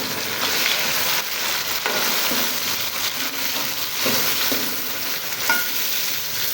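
Tomatoes go into a pan of golden-browned onions, and a loud, steady hiss of frying fills the whole stretch, with faint scraping and stirring knocks now and then and no voices.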